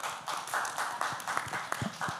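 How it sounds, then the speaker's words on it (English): Scattered audience clapping at a film trailer launch event, fairly quiet and distant, with a few sharper individual claps standing out. "So can we please give them a round of applause?"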